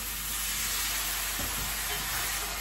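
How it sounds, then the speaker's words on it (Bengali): Fish fries in a pan with a splash of water added, giving a continuous close sizzle and hiss broken by a brief stirring scrape. "মাছটা একটু কষানো হোক আর ভাজা হোক"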